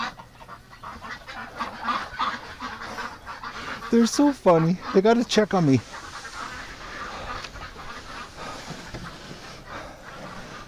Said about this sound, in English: I hear a whole bunch of ducks in the barn, though.